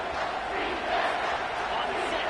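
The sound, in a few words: home football crowd cheering on third down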